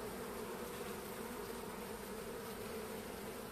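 Caucasian honey bees leaving the hive at the end of winter make a dense, steady buzzing hum, close and continuous throughout, with no voices.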